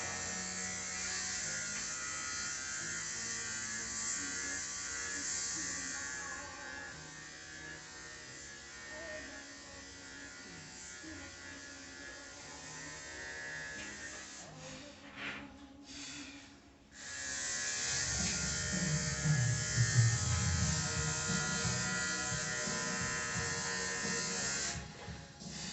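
An electric hair clipper buzzes close up during trimming, a steady nasal hum that briefly stutters and pauses, then returns louder and deeper.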